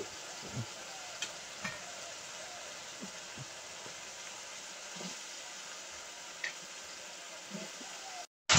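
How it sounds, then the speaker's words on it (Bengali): Potatoes sautéing with a spice mixture in hot oil for a vegetarian papad and potato curry, a steady sizzle with occasional soft stirring scrapes and clinks, close and continuous, with no talking. "এবার আলুগুলো দিয়ে মশলার সাথে ভালো করে কষিয়ে নেব।"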